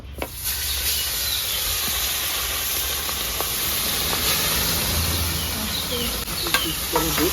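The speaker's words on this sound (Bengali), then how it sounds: "এবার দিয়ে দেবো মাছ।" Small fish frying in hot oil in a pan, a loud, continuous close sizzle and hiss that holds steady throughout with no talking.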